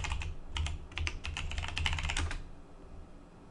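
Rapid typing on a computer keyboard, a close, quiet burst of clustered key clicks for about two seconds before stopping, with no talking.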